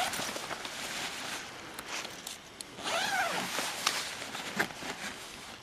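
A zipper opens the weather shield on a Clark jungle hammock: a quiet run of short rasping zip strokes, close and soft, with faint handling noise.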